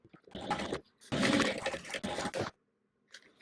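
Sewing machine stitching a seam on a fabric bag, 1/8 inch from the edge, running in three bursts of steady whirring with short pauses between them, close and fairly loud, with no talk.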